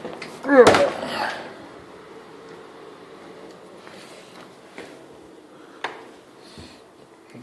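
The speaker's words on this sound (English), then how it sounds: "Here's the door." A door in a freshly painted house interior bangs once near the start, followed by quieter clicks and a soft latch later over faint room hum.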